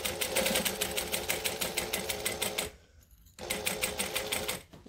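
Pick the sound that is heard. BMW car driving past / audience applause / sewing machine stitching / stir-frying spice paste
sewing machine stitching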